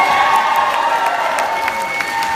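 A rally crowd at a rock-and-rally event in Falls Church, Virginia, cheers and applauds. Steady clapping sits beneath loud whoops and shouts, and the roar holds at a constant level for the whole stretch.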